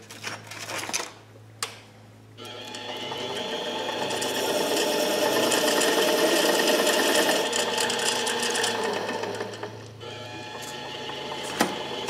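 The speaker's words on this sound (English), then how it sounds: "So now I'm just gonna head over to the sander and kind of clean her up a little bit better." An electric sander works a wooden spindle turned on a lathe, spinning up with a loud, steady whirring grind for several seconds, then winding down, after a few short knocks and taps at the start.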